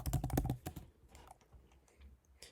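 Fingers type a search on a computer keyboard in a quick, close burst of clicking keystrokes that tapers off into a few scattered taps.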